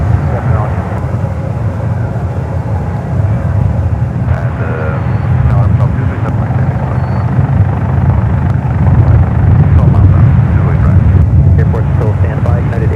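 Airplanes on runways 28 Left and 28 Right at San Francisco International Airport give a loud, steady jet roar that swells slightly, heard from a taxiway under ongoing radio and voice chatter.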